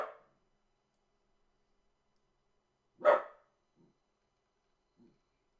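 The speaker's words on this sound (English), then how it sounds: "It is time to bark and let everyone know I am here." A dog inside a house gives a single loud bark, then two faint soft woofs in otherwise quiet surroundings.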